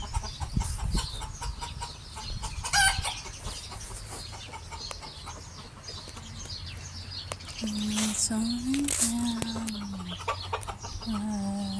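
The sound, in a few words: chickens clucking and rooster crowing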